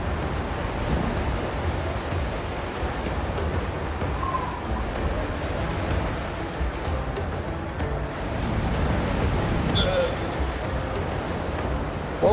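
Steady ocean surf and wind wash around a sailing ship in the video game Windrose, a continuous broadband rush with no distinct breaks.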